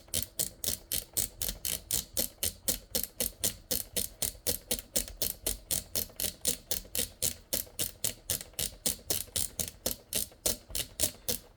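PFD course knob on a flight simulator panel turned clockwise, a fast steady train of crisp detent clicks, evenly spaced and close, with no voices.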